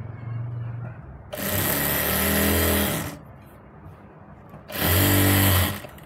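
Sewing machine stitching a readymade palazzo, running in two loud, steady bursts, the first about two seconds and the second shorter, separated by a quieter pause, with no talk.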